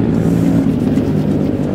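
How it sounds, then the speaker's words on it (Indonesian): A loud, steady engine roar with a low droning hum runs continuously, like a motorbike engine running close by, with no speech. "Suara motor tuh."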